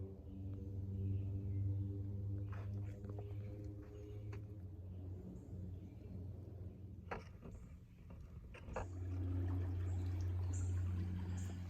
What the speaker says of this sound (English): So there is water down this creek at last.